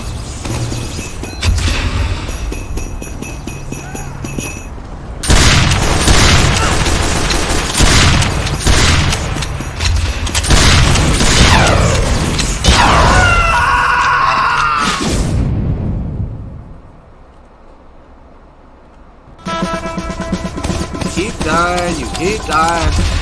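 Rocket explosions from the Liberty Launcher in Team Fortress 2 boom repeatedly amid loud, dense combat gunfire, with a brief quiet gap before more clattering action resumes.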